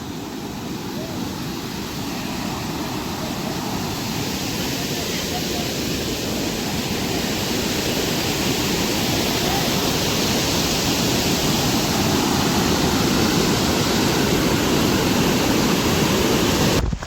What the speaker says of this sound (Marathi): तुफान फ्लो आहे रे पाण्याचा